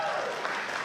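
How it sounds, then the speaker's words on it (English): A brief moment of audience clapping at an interfaith conference, a dense wash of many hands heard from a distance for under a second. "Can you just give yourself a really big hand clap?"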